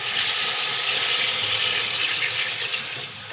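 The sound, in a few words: water being poured into the cooking pot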